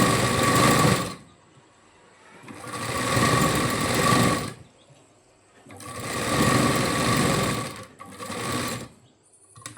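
A sewing machine runs straight stitches along lace in four separate bursts of rapid, close, whirring clatter, each lasting a second or two, with short quiet gaps between them.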